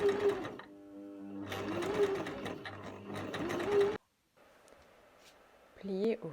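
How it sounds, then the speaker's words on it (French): Sewing machine fitted with a blind hem presser foot stitching three sides of a skirt pocket, a steady close whirring run that pauses briefly, then a quieter stretch with faint handling sounds. "Toujours à l'aide du pied de biche pour ourlet invisible, piquez les trois côtés de la poche."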